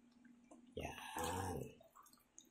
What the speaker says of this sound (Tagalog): Dagdag na tayo ng 1 cup na tubig.